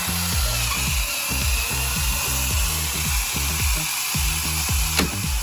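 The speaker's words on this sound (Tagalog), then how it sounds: "Pero kita nyo, kayang-kaya naman ng chainsaw." A Tanzu 16-inch chainsaw drones with a regular pulsing chug, biting repeatedly into a thick tree, loud and close, with a brief sharp crack near the end as the trunk is cut through.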